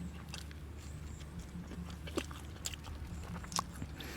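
Someone biting into and chewing plain pizza with a crisp crust, soft close-up crunches and mouth sounds repeating over a low background hum, no speech.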